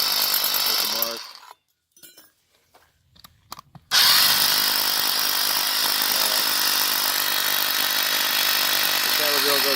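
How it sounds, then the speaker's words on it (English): Hammer drill boring into concrete while anchoring a portable garage as a permanent structure; a loud motor whine, a brief pause with scattered knocks, then a long continuous, strong drilling roar. "I just go ahead and hammer drill it."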